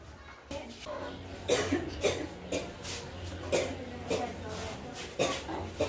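Several harsh, long-standing coughs from a patient come in a loose, repeated rhythm, close and fairly loud, with some quiet voices in the background.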